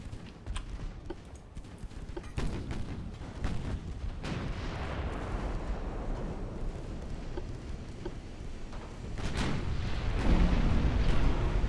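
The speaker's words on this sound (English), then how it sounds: "that was another good salvo on Clever." Warship main-gun salvos boom out in an Ultimate Admiral: Dreadnoughts naval battle, a string of deep, rumbling blasts and rolling booms with sharper reports scattered throughout, loud and continuous, swelling heavier toward the end.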